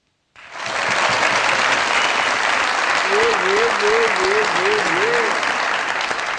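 A studio audience at a Pakistani comedy talk show breaks into loud, sustained applause that fills the whole clip, with a host's voice calling over it.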